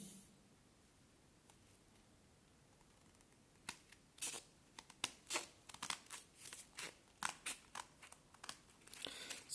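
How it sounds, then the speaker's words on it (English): Scissors snip through a sheet of paper being cut for an origami star Christmas decoration, a close series of quiet, crisp cuts and rustles in an uneven rhythm, alone with no talk. "I'll take the scissors and I will be cutting it."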